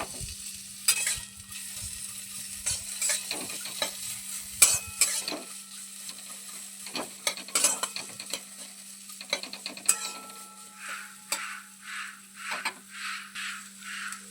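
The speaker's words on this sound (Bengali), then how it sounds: "খেঁজুরটা একটু নরম হওয়া পর্যন্ত একটু নেড়ে চেড়ে নেব" Chopped dates, figs and raisins stirred in a pan with melted fat for sugar-free protein laddoos, a spatula scraping in irregular strokes under a soft sizzle, with a steady low hum underneath.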